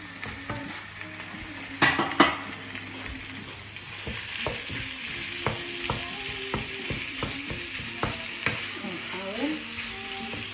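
Minced meat dropped into a pan of softened frying onions, sizzling moderately close with scattered clicks and scrapes of stirring and a couple of louder bumps early on; no talking.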